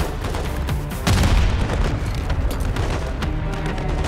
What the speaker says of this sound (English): You keep throwing the grenades